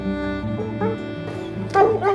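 Hunting dogs after a cougar hunt give a few close yips and whimpering barks, short and uneven across a couple of seconds, with a person talking faintly between them.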